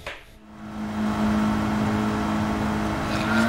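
A car engine in a racing video game revs steadily under throttle, a sustained droning hum that rises slightly and holds loud and close throughout.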